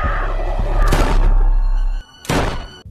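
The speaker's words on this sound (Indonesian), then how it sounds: "yang mendengar suara tembakan itu" Two sharp, loud gunshots in a film ring out about a second apart, each a short broadband burst over a low rumbling background.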